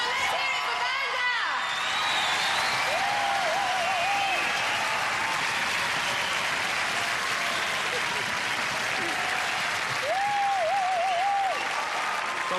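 Studio audience at a 1992 Gladiators UK final applauding a contestant: loud, sustained clapping with cheering from a large crowd, continuous throughout, with a voice speaking over it.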